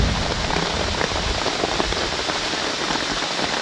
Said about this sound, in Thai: ฝนก็ยังตกอยู่เลยครับแล้วก็ฟ้าร้องเสียงดังเลยครับ